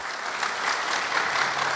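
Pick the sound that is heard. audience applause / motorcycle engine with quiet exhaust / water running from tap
audience applause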